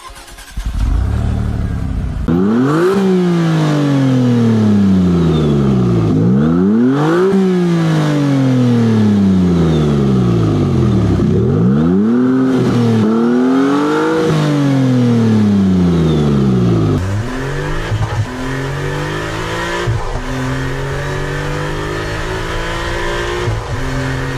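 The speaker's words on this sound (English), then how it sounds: "let's take a little look at the exhaust note." A Maserati MC20 engine revs hard again and again, its exhaust note climbing and falling in loud, close sweeps before settling into a steady drone.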